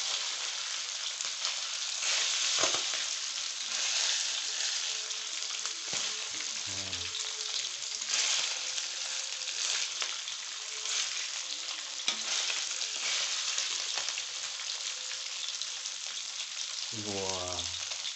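Continuous sizzling and crackling of hydrogel beads frying in hot oil, loud and close, with occasional stirring clinks and faint voices in the background.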